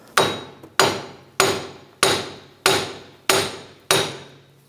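Seven sharp metallic hammer taps on the back of a front wheel hub of a 2003-2008 Infiniti FX35 at a steady rhythm, each ringing briefly before fading, loud and close with no talking.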